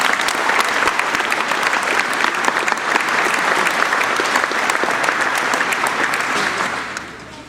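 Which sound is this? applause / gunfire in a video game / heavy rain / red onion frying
applause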